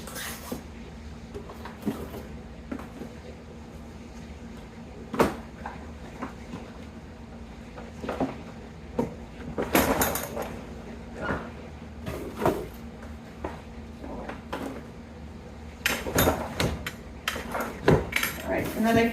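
Household items being placed into a drawer during home organizing, with scattered clinks, taps and knocks of objects against each other and the drawer, fairly close, over a low steady room hum.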